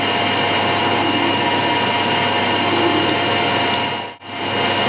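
Metal lathe turning a steel part with a ball turner tool at 1000 RPM, a steady close broadband cutting hiss and machine hum running continuously, with a brief dip near the end.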